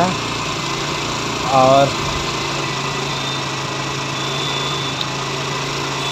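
TVS Apache BS4 motorcycle engine idling steadily during a carburetor adjustment on a bike with a missing problem at low speed: a loud, close, continuous drone with a steady tone, a brief voice speaking over it early on.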